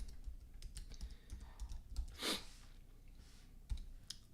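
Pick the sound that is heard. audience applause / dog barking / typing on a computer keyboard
typing on a computer keyboard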